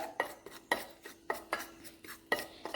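A thick paste of henna powder, cardamom powder and beetroot is stirred in a bowl, giving a steady run of close, sharp utensil knocks and scrapes at roughly half-second intervals, with no voices.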